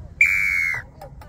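A sharp whistle blast signals the release of the balls in a ball-race challenge game in Sorocaba, one loud steady toot lasting about half a second, followed by a faint short chirp.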